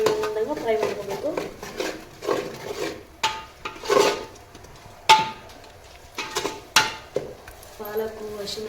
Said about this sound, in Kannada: ಈಗ ಇದನ್ನೆಲ್ಲ ಹಸಿ ವಾಸನೆ ಹೋಗೋ ತನಕ ಚೆನ್ನಾಗಿ ಫ್ರೈ ಮಾಡ್ಕೋಬೇಕು.